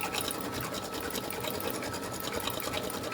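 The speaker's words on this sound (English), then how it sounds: "Place the hoop back in the embroidery machine and stitch the next step." An embroidery machine sewing an applique cover stitch for a snowflake design, a loud, fast, steady mechanical needle chatter running without pause.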